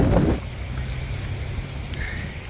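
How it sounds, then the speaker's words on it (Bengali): Strong wind from Cyclone Remal on a Bangladesh riverbank, a loud continuous roar and buffeting against the microphone with light rain, an extra gust at the start and no talk. "বাতাসের তীব্রতা অনেক আর বৃষ্টি হচ্ছে অল্প অল্প করে বৃষ্টি হচ্ছে আস্তে আস্তে বাতাসের তীব্রতা বাড়ছে"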